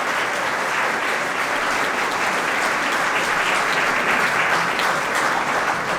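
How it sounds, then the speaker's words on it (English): An audience at a Doon Defence Academy ceremony claps steadily for a cadet's NDA success, a dense, even wash of applause sustained throughout without pause. "congratulations to him and clapping for this achievement"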